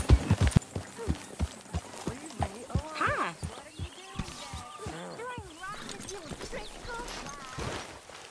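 Horse hooves clip-clop at a steady walking rhythm in Red Dead Redemption 2, close and fairly soft, with a brief whinny partway through and ambient game sound underneath.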